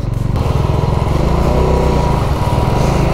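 Bajaj Dominar motorcycle engine labouring over a rough, potholed mountain road on the Shinkula Pass toward Zanskar, a steady loud throbbing drone with uneven engine pulses throughout.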